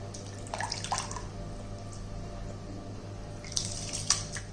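Water poured into a cooking pot for quinoa, a steady close splashing and trickling with brief louder gushes near the start and end, no talking.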